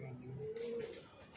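Pigeons from a flock coo in one soft, rising call that is followed by brief bursts of wing flapping, fairly close and moderately quiet, with no talking.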